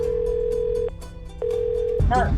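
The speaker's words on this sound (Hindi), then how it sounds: "दिस इज व्हेन मैंने घर फोन लगाया" A phone call home rings out on a trip through Ladakh and Kargil: a steady electronic ringback tone sounds, drops out briefly, resumes, then cuts off as a voice begins talking.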